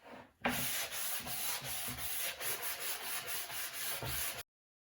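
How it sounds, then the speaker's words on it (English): Sandpaper rubbing steadily along the edges of a wooden farmhouse clock, a close, continuous scratchy rasp with quick back-and-forth strokes, stopping abruptly. "I'm just going to sand, of course, around every edge and then do a little bit on the surface in certain areas."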